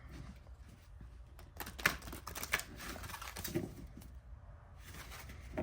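Oracle cards riffled and shuffled by hand, a run of crisp papery flicks and taps in quick uneven bursts, close and fairly quiet, with no talking.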